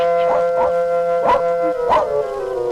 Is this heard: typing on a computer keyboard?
no